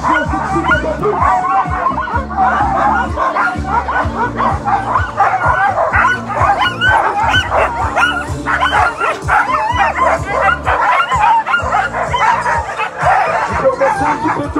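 Sled dogs lined up at a race start during a stage of La Grande Odyssée in Pralognan-la-Vanoise bark and yip in a loud, continuous, excited chorus, with whimpers mixed in and a busy crowd around them.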